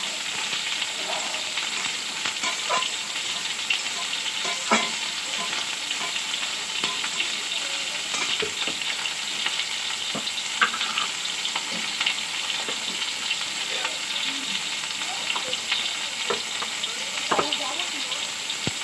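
Spices and turmeric fry in a pan with a loud, steady hiss that runs unbroken for the whole stretch, dotted with small clicks and taps from stirring close by.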